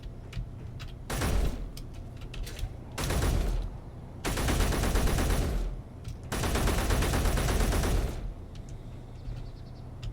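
Weapons test-fired in the space-building game Space Engineers: four sustained bursts of rapid automatic gunfire, the later two longer, separated by short quiet gaps, at moderate loudness with no talk.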